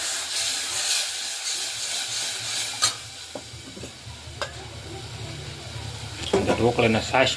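Buttermilk tempering with curry leaves sizzles and hisses in a pan for dhokli shaak, with bursts of frying and stirring clatter, a sharp splash-like crackle midway and a voice speaking near the end.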